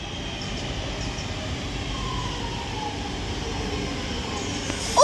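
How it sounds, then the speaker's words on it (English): A Northern Class 323 electric multiple unit pulls into Bolton station, its steady rumble and rail noise continuous throughout, with a brief louder squeal or horn-like burst right at the end. "Also now arriving in here is going to be a Northern Class 323 heading to Blackpool North from Manchester Airport"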